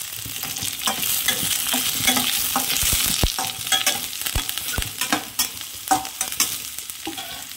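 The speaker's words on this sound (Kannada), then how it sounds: "ಚೆನ್ನಾಗಿ ಇವೆಲ್ಲ ಫ್ರೈ ಆಗಬೇಕು" Curry leaves and green chillies with onion frying for tomato gojju, a close, loud sputtering sizzle with busy stirring scrapes and knocks against the pan, thinning toward the end.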